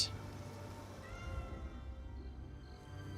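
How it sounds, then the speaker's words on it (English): Pet cats meow faintly in a quiet room, one short cry near the start and soft calls later, under a low steady hum with no talking. "You can hear my cats."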